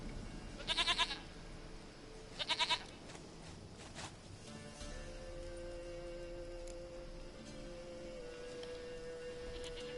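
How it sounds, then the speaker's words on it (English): A goat bleats in The Witcher 3 video game, two short loud calls early on, followed by quieter ambient game sounds and a steady tone. "Goat of mine, dearest, sweetest goat."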